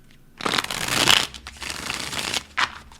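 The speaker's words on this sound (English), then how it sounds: "Let's do a couple more shuffles." Tarot cards shuffled close up: a dry rustling sweep of sliding cards, then a few shorter brushes and a sharp final snap of the deck, with no talking.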